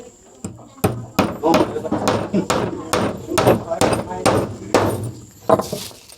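Nails being hammered into wood on a Thai house build, a series of sharp, loud hammer blows at an irregular rhythm, close by, with voices talking in the background.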